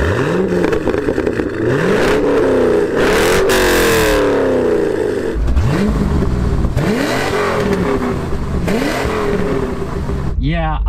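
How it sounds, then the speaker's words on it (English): Corvette C4 and C5 V8s with aftermarket exhaust revving, repeated loud throttle blips rising and falling in quick succession, with a rough burbling idle between revs and a sharp rev at the end. "the aftermarket exhaust on that C5 sounds better than my stock C4, but neither car sounds bad"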